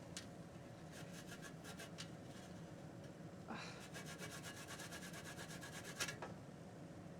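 Food is rubbed across a kitchen grater in short bursts of scraping strokes, faint and close, with pauses between runs.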